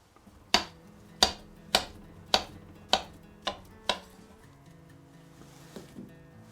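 A knife roughly chopping ingredients for chocolate orange banana bread, seven sharp close thuds on a cutting board in an even rhythm about half a second apart, then a pause and a faint final tap.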